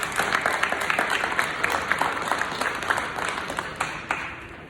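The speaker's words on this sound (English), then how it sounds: "can y'all clap it up for Michael Abonocine, please?" A middle school ceremony audience claps for Michael Abonocine, many distinct hand claps rippling in a lively uneven rhythm, fairly close, tapering slightly near the end.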